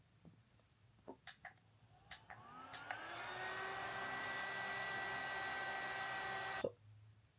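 A nail dryer is switched on after a few light clicks and taps, blowing a steady whirring hum over freshly applied polish for several seconds before cutting off abruptly.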